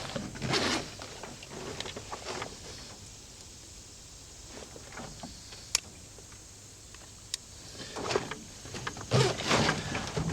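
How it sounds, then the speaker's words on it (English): Fishing line pulled off a spool by hand at the water's edge, giving soft zipping, whirring runs in a few separate bursts with faint ticks between them, close and fairly quiet against an outdoor background. "I'm just going to run 40 or 50 feet of line off here"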